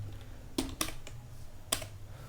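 A few sharp keystrokes click on a computer keyboard, quiet and close, with three or four distinct taps spaced irregularly over a soft background hush.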